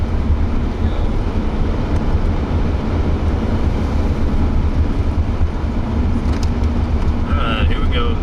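A car drives on a Kansas storm chase beneath a low-level mesocyclone, its steady road and engine roar filling the clip loudly and continuously, with a voice speaking over it.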